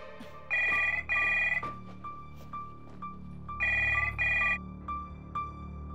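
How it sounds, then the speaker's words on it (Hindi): A telephone rings in paired electronic trills that repeat twice, fairly faint against a quiet room hum. "आस्था फोन"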